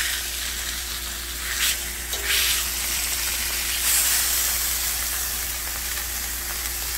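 Meat browns in a hot pan with a loud, steady sizzle and hiss, broken by a couple of brief flares as the pieces are turned, close by with no talking.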